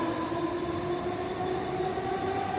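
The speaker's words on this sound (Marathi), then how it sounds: "आणि ट्रेन गेली आत्ताच हे बघू शकता ट्रेनने आलो आम्ही" A commuter train pulls out of Kharghar station in Navi Mumbai, a steady close rumbling drone with a humming tone that runs unbroken throughout and has no talk over it.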